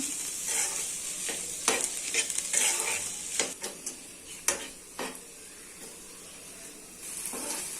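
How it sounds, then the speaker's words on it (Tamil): Tomatoes sautéing in a pan for pav bhaji give a steady close sizzle and hiss, broken by repeated sharp ticks and scrapes as a spatula stirs and knocks against the metal. "இப்போ நம்ம தக்காளியை போடலாம். இதுவும் நல்லா நம்ம வதக்கிக்கலாம்."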